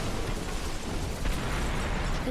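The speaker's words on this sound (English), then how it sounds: "Contiguous explosions" Explosions rumble through a roller coaster video game as a dense, continuous burst of booming noise with crackling debris, loud and close, no voices.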